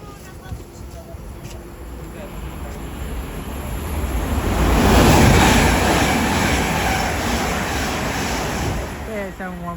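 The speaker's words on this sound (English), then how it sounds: "Also soon to pass will be a Heathrow Express service" Heathrow Express train passing West Ealing station on the Great Western Main Line: a rushing roar swells to a loud peak mid-pass and then slowly fades, with a brief horn-like tone near the end.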